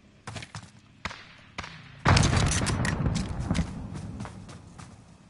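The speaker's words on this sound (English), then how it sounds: "It's an ammo armor crate that we just blew up." An ammo and armor crate blown up in a battle royale shooter game: a few soft thuds lead into a sudden loud burst at about two seconds, followed by a dense, crackling rumble that lingers and slowly fades.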